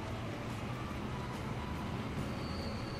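Trains rolling in Transport Fever, including electric trains: a steady, continuous rumble of rail wagons and wheels with a faint high whine, no voices over it.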